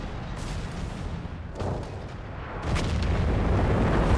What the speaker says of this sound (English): Stucker's first barrage off here.